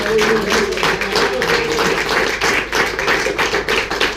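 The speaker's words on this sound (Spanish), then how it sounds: "Un aplauso al Señor." A church congregation applauds, many hands clapping in a dense, steady, loud burst that runs throughout without a break.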